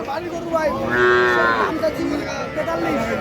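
A Sahiwal cow at a small rural cattle market in Dinajpur gives one long, loud, drawn-out moo, close by, trailing into a lower second call with faint crowd noise behind.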